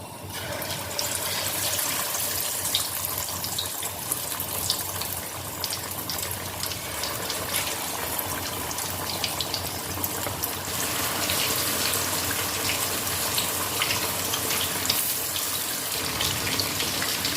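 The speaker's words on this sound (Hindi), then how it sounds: "मीडियम हीट पे हमने ऑयल गरम कर लिया है तो इसमें हम फिश के पीसेस डाल देंगे।" Fish pieces dropped into oil heated over medium heat for a Lahori masala fish fry, giving a loud, steady, dense sizzle that runs without a break.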